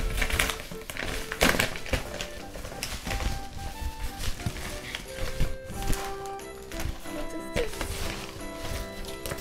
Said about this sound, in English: I found another envelope that we can open.